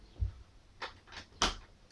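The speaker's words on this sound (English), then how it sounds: "Shut that door." A door is shut indoors on a windy day, with a soft low thump followed by a few quiet clattering knocks as it settles, heard alone and faint.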